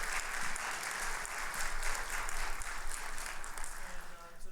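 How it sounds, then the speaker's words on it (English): An audience at a high school winter band concert applauds with a dense, steady wash of clapping. It stays fairly distant and soft throughout. "So please give them a round of applause."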